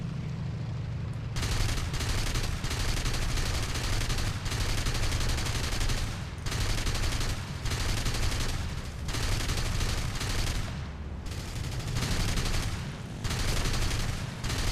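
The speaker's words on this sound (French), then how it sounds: "Arrêtez de me tirer dessus les potes là" Dense, continuous machine-gun fire rattles loudly and nearly without pause in a War Thunder aerial battle, with bursts of rapid shots overlapping throughout and only brief dips between volleys.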